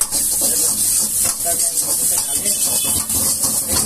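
Ginger frying in hot oil gives a steady, loud, close sizzling hiss that runs unbroken throughout, with slight swells in intensity.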